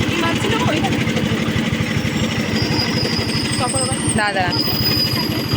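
A motorcycle engine runs loud and close, holding a steady chugging idle with the throttle rising and falling, while voices talk over it.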